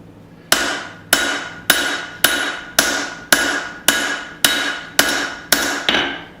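Hammer blows ring out on an anvil while a small claw hammer is forged and its taper finished on the horn: ten sharp, evenly spaced metallic strikes, close and loud, each with a short decaying ring.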